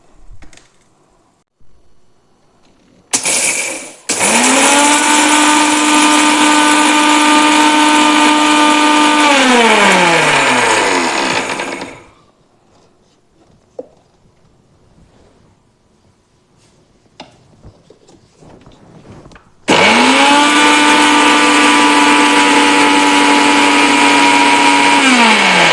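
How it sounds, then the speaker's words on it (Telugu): Mixer grinder powdering roasted fenugreek seeds, two loud whirring bursts with a high motor whine that rises as it spins up, winds down, then resumes after a pause. "మెంతులు ఈ విధంగా మిక్సీ పట్టేసుకుందాము"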